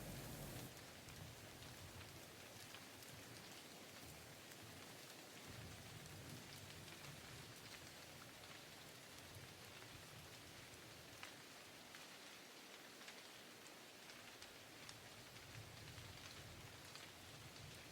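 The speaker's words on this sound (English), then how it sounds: "You can hear the rain drumming above us" Rain drums on an abandoned tent in a forest, a soft, steady patter of countless drops heard from inside, with the wash continuing evenly and a faint low rumble beneath.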